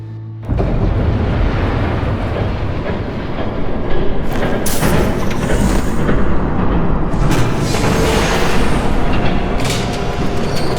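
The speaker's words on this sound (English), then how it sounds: "There's a train coming." A train approaching in the Batman Telltale video game, a loud, continuous roaring rumble with rattling clatter that swells and surges for several seconds, with no voices.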